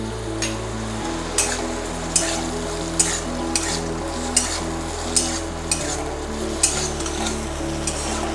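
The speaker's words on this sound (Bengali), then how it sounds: "যেগুলো একটু বড় বড় কেটে রেখেছিলাম সেই মাশরুমগুলো ভেজে নিচ্ছি" Large-cut mushrooms fry in a pan with a pinch of salt and sugar, giving a steady sizzle punctuated by regular clinks and scrapes of stirring.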